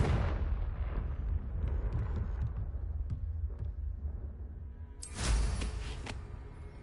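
A Confringo fire spell blasts in Hogwarts Legacy: a bright fiery whoosh opens into a rumbling explosion that fades, and a second sharp burst flares near the end.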